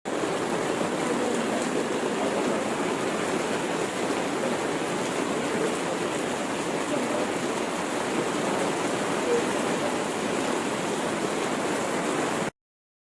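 Rainwater floods streets in Bathinda, Punjab, making a steady, dense wash of rushing water and rain noise that holds constant and loud for about twelve seconds before cutting off.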